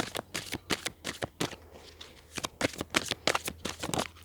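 A tarot deck is shuffled and cards are pulled in a steady run of rapid, papery flicks and soft snaps, close and continuous for several seconds with no talking.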